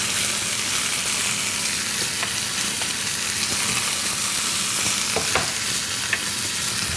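Chopped garlic and yellow onions, about an ounce each with salt and white pepper, fry in a pan with a steady, close sizzle and occasional stirring scrapes throughout.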